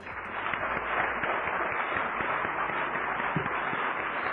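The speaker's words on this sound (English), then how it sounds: "How about let's give them a round of applause?" Audience at a sobriety fellowship convention applauding the convention committee, a steady wash of many hands clapping from a distance, fairly soft and even throughout.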